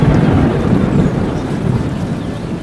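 Heavy, steady rainfall pours down with a low rumble of thunder underneath, a dense continuous roar that stays loud throughout with no voices.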